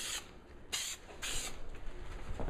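Short bursts of adhesive from an aerosol spray can onto the rough side of a car trunk trim piece, three sharp hissing blasts with brief pauses between, close and alone.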